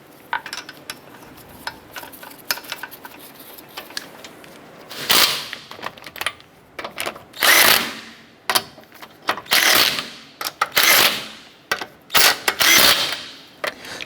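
Lug nuts being snugged down on the front wheel of a 2008-2012 Honda Accord after a strut assembly replacement: a run of loud, rattling ratchet-like bursts, each lasting about a second, over faint background clatter.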